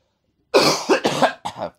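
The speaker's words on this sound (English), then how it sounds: "Get all your coughs out." Three rough coughing bursts come in quick succession, close and loud into a podcast microphone after a moment of silence.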